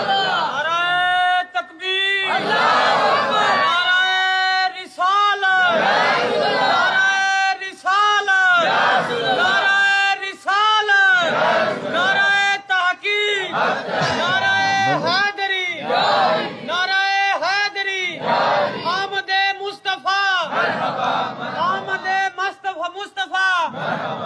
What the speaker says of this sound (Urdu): نعرے تواڈے قبول ہو گئے اللہ دی بارگاہ دے وچ